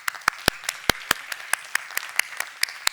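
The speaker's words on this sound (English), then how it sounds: "So again, warm round of applause to both of you, Rickard and Maria Claudia." Scattered hand claps from a small conference audience, sharp and uneven, close by, with faint talk underneath.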